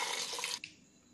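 Water pours from a glass into a pressure cooker holding rice, a dense close splashing stream that stops abruptly partway through, leaving a faint drip and quiet room tone.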